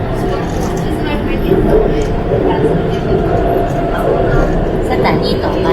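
Inside an MRT metro train in Thailand, a steady low rumble of the moving carriage fills the ride, with muffled chatter from passengers underneath.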